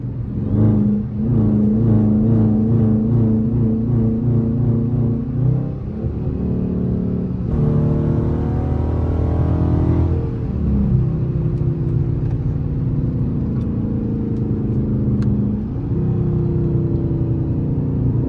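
A Dodge Charger R/T V8 with traction control switched off revs loudly, its engine note climbing and falling in steady pulls, deep and close throughout with no talk.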